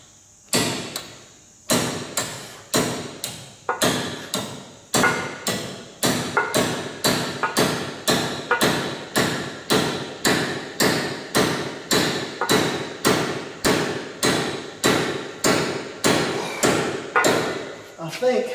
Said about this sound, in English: I was trying a 2-pound brass hammer, move up to a 4-pound sledgehammer